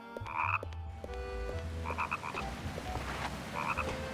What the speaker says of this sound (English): I hear frogs.